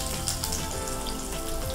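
Chopped onions with whole spices fry for aloo kurma, a short, even sizzle with a faint crackle, heard close and uninterrupted.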